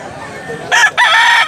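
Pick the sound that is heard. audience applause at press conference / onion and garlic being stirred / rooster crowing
rooster crowing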